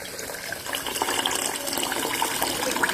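Water pours steadily from a vessel onto uncooked rice, a continuous close splashing gush that builds slightly and holds, with no voices.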